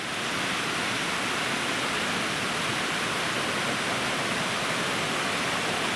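Rushing water of Sphinx Creek, a growing mountain creek on a day hike toward Mount Brewer, makes a steady, loud, continuous roar that holds unchanged from start to finish with no voices.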